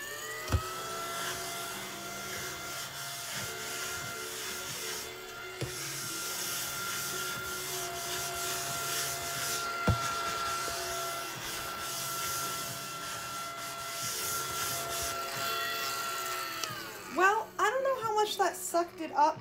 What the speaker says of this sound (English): I have this little mushroom that is a desktop vacuum for like pencil shavings.